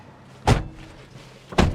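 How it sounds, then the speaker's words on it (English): Heavy door of a 1985 BMW M635CSi slamming shut twice, each a close, loud, solid thud with quiet between the two hits. "Heavy doors, aren't they? Take a bit of slamming."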